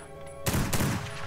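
Rapid gunfire in Lovecraft's Untold Stories bursts in suddenly after a quiet moment, a tight fast volley of close, loud shots.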